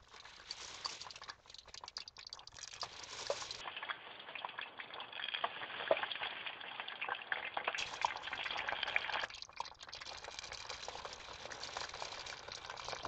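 Frozen french fries sizzle in hot oil on a hobo stove, a steady crackling and popping patter that stays fairly quiet and continuous, with nobody speaking.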